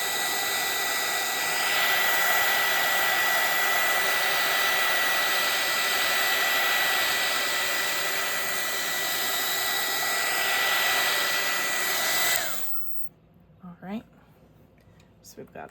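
A hair dryer blows steadily on painted napkin collage work, a loud close continuous whoosh that cuts off near the end, leaving a few faint handling sounds.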